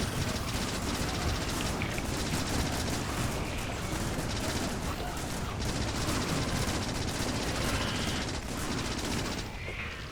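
Factorio gun turrets fire steadily at a swarm of biters, a dense, unbroken rattle of automatic gunfire holding at one loud level for the whole stretch before easing slightly at the very end.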